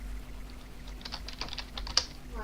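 Rapid key clicks on a computer keyboard while typing chat during a Minecraft game, a steady run of close, light taps with a few sharper strokes, alone without speech.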